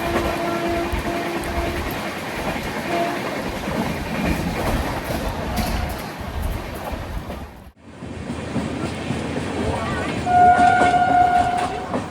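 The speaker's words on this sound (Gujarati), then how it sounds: "આપણી સામે જે જઈ રહી છે તે વીસ આઠસો ત્રણ વિશાખાપટ્ટનમ ગાંધીધામ સુપરફાસ્ટ એક્સપ્રેસ ગાડી છે" The 20803 Visakhapatnam–Gandhidham Superfast Express roars past close by with steady rushing rumble and rattling wheels, then a sharp squealing tone rises near the end.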